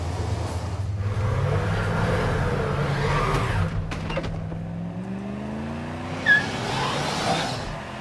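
American cars drive over steep, narrow cobbled streets in Edinburgh city centre, their engines droning steadily with a rising rev and a short tyre squeal partway through, no talking.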